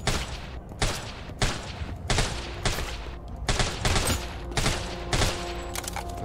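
Loud gunfire at zombies in the video game Deathly Stillness, evenly spaced single shots about every half second to second, each sharp crack followed by a brief decay, close and dominant.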